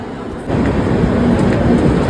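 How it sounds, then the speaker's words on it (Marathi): Loud, steady rumble and rattle of the Puri Express passenger train passing close by, building up after a short quieter moment. "ही पुरीला जाणारी ट्रेन आहे पुरी एक्सप्रेस"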